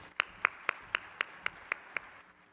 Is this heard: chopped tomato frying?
no